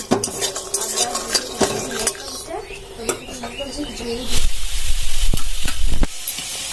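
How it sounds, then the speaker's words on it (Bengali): A pot of khichuri bubbles and sizzles up close as a spoon stirs and clinks against the metal rim several times. "এই দেখো খিচুড়িও ফুটছে এখন"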